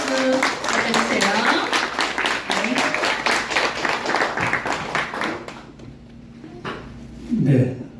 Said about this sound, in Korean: 큰 박수 부탁드려주세요